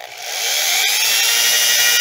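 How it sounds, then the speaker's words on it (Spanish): An electric drill bores holes into a piece of wood for a homemade manual armature rewinding machine, a loud, close, continuous high whine that builds quickly and then holds steady. "ahora con el taladro vamos a hacerle los hoyitos aquí a la madera"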